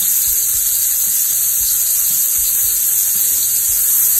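Onions and mushrooms sizzle steadily while sautéing in a frying pan, a loud continuous hiss with soft scraping and stirring under it and no talking.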